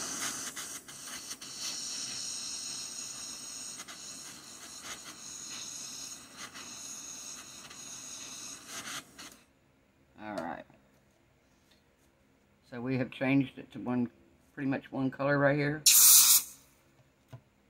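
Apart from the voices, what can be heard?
copper sizzling while heated with a torch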